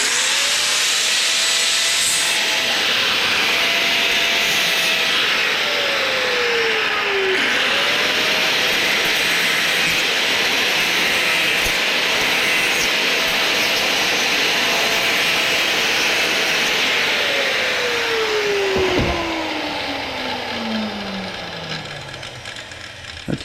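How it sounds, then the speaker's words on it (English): An angle grinder cuts through scrap metal in a shop, a loud continuous high whine with pitch dropping under load and rising again in two long cuts, steady and close throughout. "I got the grinder."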